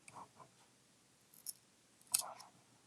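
Scissors snip through album or gift bag paper in a few quiet, separate cuts, short crisp shears spaced over a few seconds in an otherwise hushed room.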